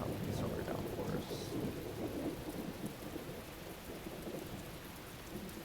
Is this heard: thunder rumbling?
yes